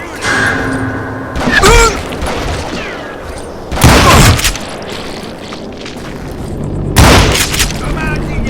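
Gunfire from the Western shooter video game Call of Juarez, with three loud booming shots spaced a few seconds apart and faint game sounds between them.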